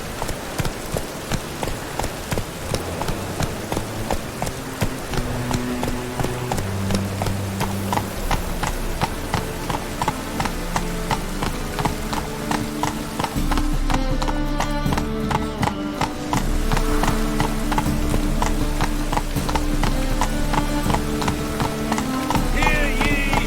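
Galloping horse hooves in The Witcher video game, a steady rapid clip-clop running under layered orchestral game music while riding through Novigrad, loud and continuous throughout.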